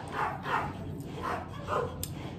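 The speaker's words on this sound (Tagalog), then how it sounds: "Pagpasensyaan nyo na ang ingay ng aking mga aso." Dogs bark in short bursts, four or five yaps spaced apart, at moderate distance with some background noise.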